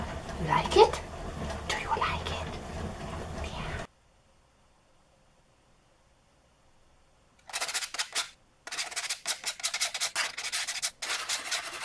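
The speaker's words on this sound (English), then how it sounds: "and then I sanded with 150 and 220." Sandpaper rubs across a wooden scroll saw piece in quick strokes, close and scratchy, with a silent gap in the middle before steady back-and-forth sanding resumes.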